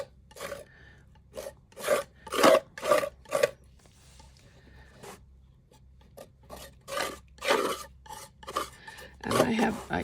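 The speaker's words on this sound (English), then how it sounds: "Sorry for the scraping" A scraper rasps paint off a mixed-media painting in quick repeated strokes, short bursts in close rhythm with a brief pause midway, dry and near.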